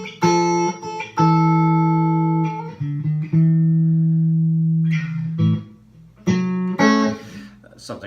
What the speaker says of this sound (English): typically in an intro for an old blues, you're going to hear the traditional something to the effect of